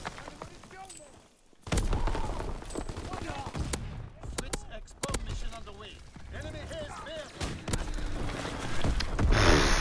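Enemy gunfire in Call of Duty WWII, bursts of rifle and machine gun shots with thuds and mechanical clatter, fairly loud amid battle noise, with someone talking over it.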